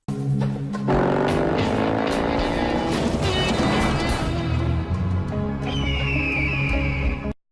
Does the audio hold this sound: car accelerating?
yes